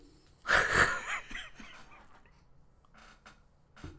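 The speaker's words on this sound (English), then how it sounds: "I was trying to get it out before I yawned." A person gives one long, breathy, wheezing yawn that swells loudly for about a second and then trails off into quiet breathing.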